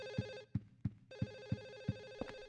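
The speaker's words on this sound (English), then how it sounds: "getting tilted by the phone noise" A telephone rings in the PS2 horror game Silent Hill 4: The Room: repeated electronic ring bursts with steady harmonic tones, interrupted by a few short clicks and a brief gap, loud and alone without talk.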